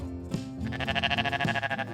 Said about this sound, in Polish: Słyszysz? To jest koza.